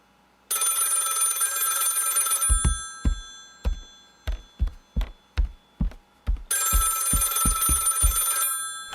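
An old-style telephone bell rings in two long shrill bursts, separated by a series of heavy thuds, loud and near with no voices over it.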